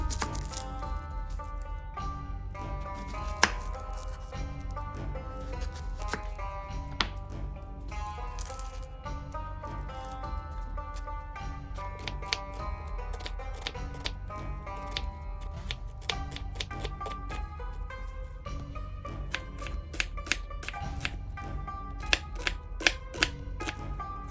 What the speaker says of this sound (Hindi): मैंने यहाँ 3 मीडियम साइज के अनियंस लिए हैं। इन्हें स्लाइसेस में कट कर लेते हैं।